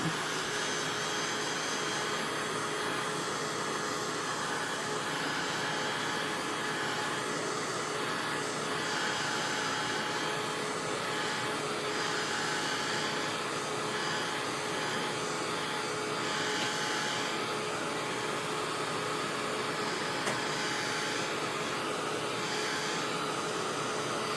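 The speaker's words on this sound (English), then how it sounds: "But I'm going to get my heating tool. I'm going to dry this a little bit." A heat tool blows a steady, even whoosh while drying chalk paste on a transfer over painted wood, a continuous faint airy hiss with no pauses or talking.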